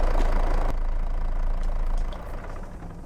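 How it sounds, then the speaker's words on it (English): A forklift engine idling in Farming Simulator 22, a steady low rumbling drone that holds for about two seconds and then drops to a quieter hum. "I think I've left the forklift running as well"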